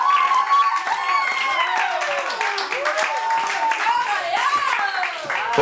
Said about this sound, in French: on applaudit Soraya s'il vous plaît